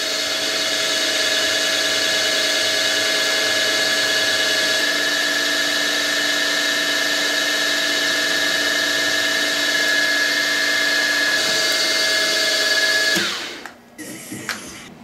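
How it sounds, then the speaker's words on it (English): A loud, steady milling machine whine drilling steel for a saw arbor, with a constant pitch, runs for a long stretch, then abruptly winds down into clanks and rattles. "And we're drilling."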